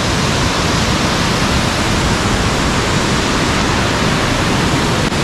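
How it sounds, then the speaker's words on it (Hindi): A waterfall roaring beside a living root bridge on a forest trek in India, a dense, loud, continuous rush of falling water with no other sound. "जोर जोर से झरना।"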